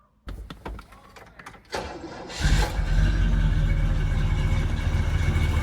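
A 1966 Chevrolet Impala convertible engine cranks with a few uneven starter turns, catches and fires, then settles into a loud, steady rumbling idle close by.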